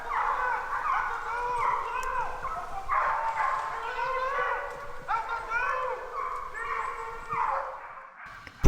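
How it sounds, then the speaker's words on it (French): A pack of hunting dogs bays and yelps during a wild boar drive hunt, many overlapping barks and howls rising and falling steadily at moderate distance, with a sharp louder noise at the very end. "Je vous laisse un peu avec la musique des chiens avant de repartir chez Nico."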